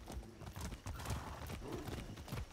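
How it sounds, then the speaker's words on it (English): Horse hooves clip-clop in a quick, uneven rhythm in the video game Far Cry 6, mixed with a faint whinny and some muffled background noise. "Be nice, horse."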